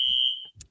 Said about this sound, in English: we are experiencing a fire alarm right now